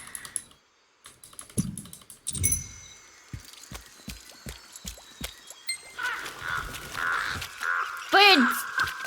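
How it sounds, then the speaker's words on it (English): Birds caw in the video game Lost Ark, a rising call coming near the end over a busy layer of clicking, keyboard-like taps and game noise. "Birds."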